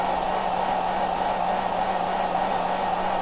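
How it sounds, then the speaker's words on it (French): A 1200-watt hair dryer runs steadily at full blast, a loud, constant whooshing roar with a low electrical hum underneath, unbroken throughout. "on a le sèche-cheveux à pleine puissance"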